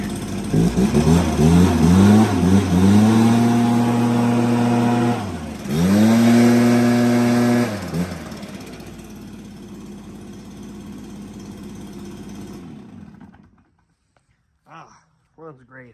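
A small two-stroke Stihl BR430 backpack leaf blower engine revs up loudly several times, climbing and falling in pitch, then winds down to silence with a few faint knocks at the end.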